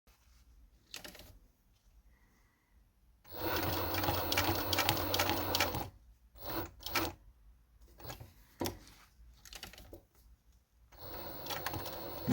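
Necchi sewing machine stitching through ten stacked layers of material: a loud, rapid mechanical whir in one sustained run, then shorter stop-start bursts at slower speeds with pauses between them.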